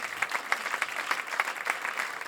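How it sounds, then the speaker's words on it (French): An audience at a French stand-up comedy show applauds, a steady wash of many hands clapping at moderate distance with brief louder bursts, carrying on evenly for the whole stretch. "Et je demande un tonnerre d'applaudissements"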